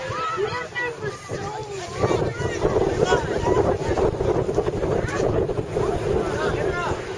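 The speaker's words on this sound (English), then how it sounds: "As the wind blows away all the hoops." Wind on a beach buffets the microphone in a steady, rough rush that continues throughout, with people talking over it.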